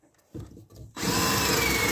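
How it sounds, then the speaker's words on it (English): A power drill boring through a piece of wood: two short revving bursts, then a steady, loud, continuous whine as the bit drives in, close by and with no talking. "when you drill it, right, so you still just want to drill through one piece of wood"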